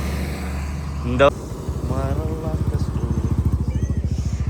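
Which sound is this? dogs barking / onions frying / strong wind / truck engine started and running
truck engine started and running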